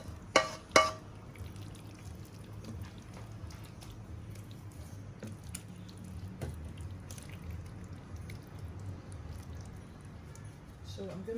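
Thick chicken casserole is poured from a pot into a baking dish, a soft, close, wet glugging and squishing with a couple of sharp knocks of the pan at the start, and faint voices in the background.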